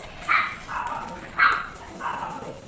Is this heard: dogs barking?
yes